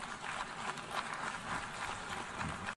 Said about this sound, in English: And they're clapping